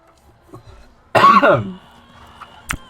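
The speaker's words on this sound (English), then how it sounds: "Once again had to cough, sorry about that." A single loud, close cough bursts out of a quiet room, followed by faint background noise and a small click.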